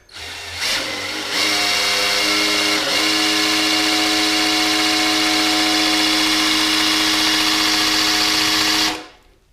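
Drill-driven pre-oiling of a 305 Vortec small-block V8's standard-pressure oil pump in an El Camino, a loud, steady, high whining drone that spins up, holds with a slight pitch dip, then stops abruptly.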